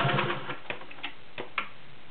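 A Singer 500A Slant-O-Matic sewing machine stitches through six layers of denim with a size 16 needle, giving a brief burst of fast clatter followed by a few sparse, separate knocks, close and without talk.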